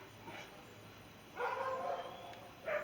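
Several dogs barking in excited bursts at a turtle rescue, an outdoor scene, a short yip early on, then a sustained cluster of barks and a final sharp bark, fairly distant and moderately loud.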